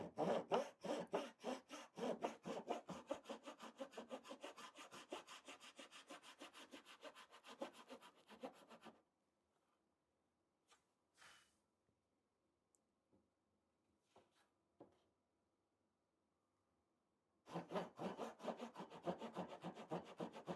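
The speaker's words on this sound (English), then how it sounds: "So we're going to cut out some of these frets." A hand saw cuts fret slots across a Telecaster guitar neck in two close bursts of rapid back-and-forth wooden rasping, separated by about eight seconds of near silence broken only by faint clicks.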